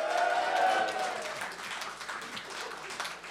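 A live theatre audience at Théâtre Ste-Catherine answers a question by applauding, a burst of clapping that starts fairly loud, then thins and fades over a few seconds.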